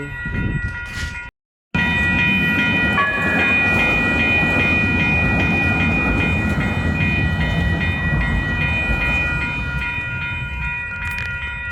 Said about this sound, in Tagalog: Ayan, may dadaan na train.